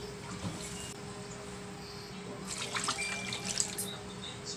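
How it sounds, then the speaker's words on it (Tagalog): Water pours steadily into a pot of pork hock for sinigang, a constant rushing splash that grows slightly brighter and more splashy toward the end. "Lalagyan na natin ng tubig mga kaulam."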